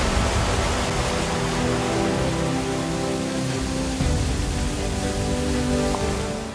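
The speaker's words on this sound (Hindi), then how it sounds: "जल की सैकड़ों धाराएं एक विशाल अजगर की तरह लहराते हुए नीचे गिर रही थीं।" Waterfall deep in the dense Abujmarh forest, hundreds of streams of water tumbling down, giving a steady, loud, broadband roar that holds without a break throughout.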